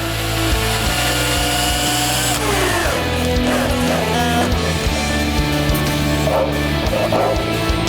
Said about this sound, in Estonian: ka siin on siis soovitav auk ette puurida.